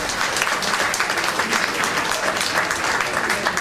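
Loud, dense audience applause fills a rock'n'roll concert at a Blue Note club in Poznań, a steady sustained roar of clapping from a large crowd throughout.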